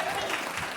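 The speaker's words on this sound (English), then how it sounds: "Round of applause." A brief burst of audience clapping at a book launch in Corofin, County Clare, a dense, even spatter of hands heard close and continuous for under a second.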